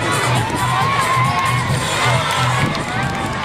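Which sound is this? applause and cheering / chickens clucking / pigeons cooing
applause and cheering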